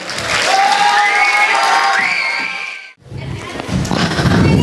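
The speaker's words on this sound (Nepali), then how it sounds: "उहाँहरूलाई जोरदार ताली बजाएर स्वागत गरौँ" A school audience at a comedy skit performance bursts into loud applause and cheering, a roaring crowd with shouts rising over clapping, briefly dropping away then swelling again close and full.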